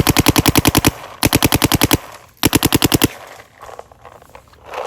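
Planet Eclipse high-end paintball marker firing in rapid bursts, three quick strings of sharp, loud pops separated by short pauses, followed by quieter handling noise.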